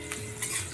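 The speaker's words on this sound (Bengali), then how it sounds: "আলুটা একটু ভেজে নিলাম" Potatoes frying briefly in a pan, a close continuous sizzle with a faint stirring scrape, no voices.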